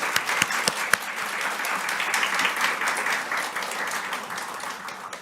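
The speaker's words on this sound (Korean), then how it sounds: "감사의 박수를 드리고요" A congregation at a Sunday church service claps in thanks to the woman pastor who preached. A few loud close claps open a steady, full round of applause that holds for several seconds.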